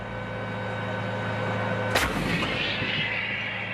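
A single loud artillery blast from an M109A7 Paladin-based Excalibur howitzer with a 58-caliber, 30-foot gun tube, a sharp boom cutting through steady engine drone and followed by a lingering rumbling roar.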